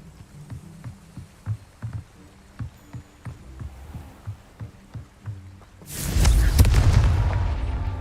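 Confringo explosive spell in the game Hogwarts Legacy: a series of soft rhythmic thumps, then one loud, deep booming blast that roars and slowly fades.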